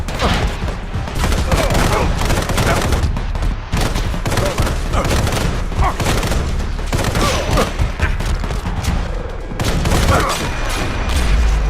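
Assault rifle gunfire in a video game, dense and loud, with rapid bursts and booming impacts nearly continuous throughout, layered with game effects and no clear talk.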